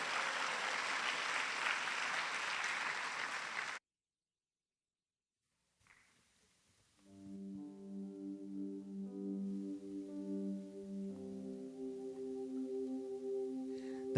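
At a prayer rally for Busan's 2030 World Expo bid, an audience applauds to welcome guests. About four seconds of dense clapping stops abruptly, then silence, then soft sustained music.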